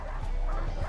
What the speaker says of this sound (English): That's a lot of doggies.